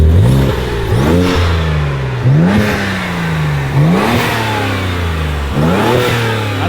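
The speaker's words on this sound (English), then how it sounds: "Give us some revs" BMW 335i with the N54 engine and DCI intake revs repeatedly, several sharp throttle blips rising and falling in pitch over a steady idle, close and loud.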